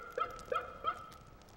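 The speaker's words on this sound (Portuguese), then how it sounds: "começou aquele misterioso yip, yip, yip, como um cachorro fox terrier, um yip, yip agudo e quase imediatamente um eco" Three sharp, high yips come in quick, even succession, like a fox terrier's bark, attributed to a Tasmanian tiger; faint and somewhat distant, with no talk over them.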